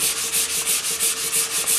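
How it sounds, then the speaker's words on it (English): Brisk, steady back-and-forth scratching of a sanding block on a wooden guitar body, with the grain, about eight even strokes in quick rhythm, close up with no talking. "Keep sanding with the grain."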